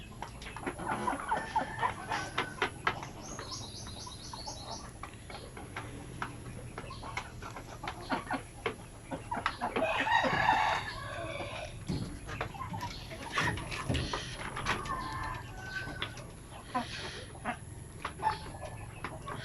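Zampen native chickens clucking on a farm, with repeated short calls and a rooster crowing near the middle, over steady farmyard background noise.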